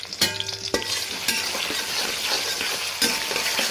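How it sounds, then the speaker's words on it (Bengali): Chopped onion, ginger paste, cumin paste, garlic paste, cardamom, cinnamon and bay leaves hit hot oil for a beef aloo dum, a sharp clatter then a steady, loud sizzle with spoon strokes scraping and stirring the pan. "একসাথে লাল লাল করে ভেজে নেব"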